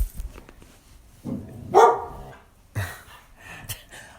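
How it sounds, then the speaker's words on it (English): A dog barks indoors in a few sharp, loud bursts with short pauses between them, and a softer yip or whimper follows. "Oh my gosh, this dog will not give up."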